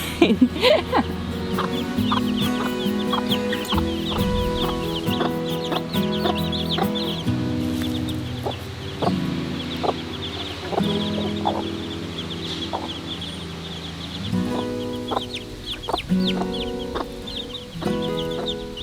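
A Lavender Orpington hen clucks repeatedly in short, uneven bursts amid other soft fowl calls and faint background noise.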